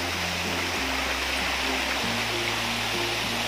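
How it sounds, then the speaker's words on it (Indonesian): A steady, broad rush of falling water from Wodu waterfall in Biak, Papua, close and loud, with a faint low hum underneath. "kita sudah sampai di air terjun"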